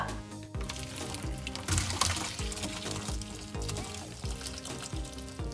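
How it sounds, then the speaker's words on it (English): Water from boiled potatoes is dumped through a kitchen strainer, a loud splashing pour that runs several seconds with gurgling and trickling surges, close by and without talk. "Got a little strainer, gonna dump out all the water and have all the potatoes here"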